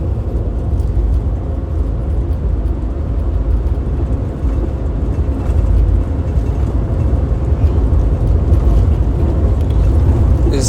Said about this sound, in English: if you hear some noise in the background, I'm in transit right now.